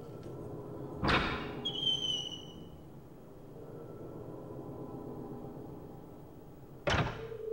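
A door in the PS2 horror game Project Zero, with a heavy thud as it opens followed by a short metallic ring, then a second similar thump a few seconds later, over quiet ambient hum.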